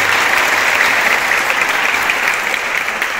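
Steady, dense applause from a large audience, loud and continuous throughout with no voices standing out.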